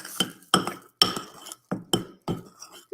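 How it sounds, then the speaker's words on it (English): A spoon stirs a mixture in a glass container, giving about eight sharp glassy clinks and taps in a quick, uneven rhythm, close up and alone without talk. "So I'm stirring now."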